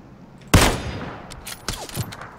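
Gunfire rings out in a battle royale video game: one sharp, loud shot, then a few lighter, scattered pops and clicks trailing off through the rest of the moment.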